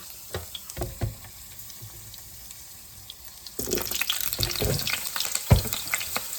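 Drained potatoes drop into a hot skillet. A few clunks and light taps come first, then a loud burst of sizzling and crackling oil that continues close up, with scraping knocks from a utensil.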